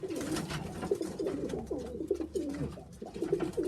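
Sheffield Tippler pigeon cooing in soft repeated rolling coos, close and fairly quiet, a steady series of throaty calls without voices.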